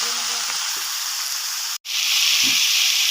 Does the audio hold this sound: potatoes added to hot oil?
yes